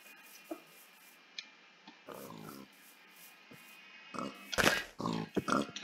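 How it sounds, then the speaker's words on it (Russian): Pigs oink and grunt in Minecraft, a few scattered snorts at first, then a denser, louder cluster of grunts near the end. "А вот где свиньи прячутся."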